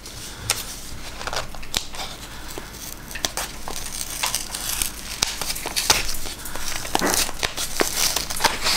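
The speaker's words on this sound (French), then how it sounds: "Donc je vais ouvrir la jolie enveloppe." A paper envelope torn and opened up close, with crinkling, rustling and sharp tearing bursts coming in irregular clusters, moderately loud and with no voice.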